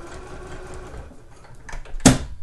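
A sewing machine stitches tape onto knitted poncho fabric at a slow, steady pace, its fine rapid mechanical whir close and continuous, ending with a sharp loud click.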